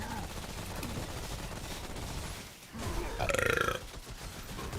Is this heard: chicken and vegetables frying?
no